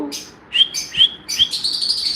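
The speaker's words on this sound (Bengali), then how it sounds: "এটা হচ্ছে আমার পোষমানা পাখিটি" A small pet bird in an aviary room chirps close by in a quick series of bright, high tweets, with a brief soft voice at the start.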